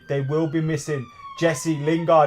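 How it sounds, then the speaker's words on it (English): A faint emergency vehicle siren wails in the background, its falling tone running beneath a man's continuous speech. "Excuse the sirens."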